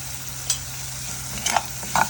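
Spices and green chillies for paneer butter masala fry in a pan with a steady sizzle, punctuated by a few brief clinks and scrapes of a stirring utensil.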